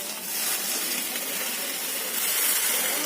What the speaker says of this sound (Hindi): जैसे आप लोग दाल पे तड़का मारते हो ना, उसी तरह से अच्छे से इस तरह गर्म ऑयल डाल देंगे।